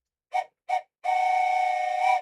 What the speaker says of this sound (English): Another train whistle.